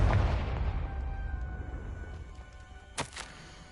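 A Confringo fire spell goes off in Hogwarts Legacy with a heavy booming blast that decays into rumbling debris, then a second sharp burst follows near the end.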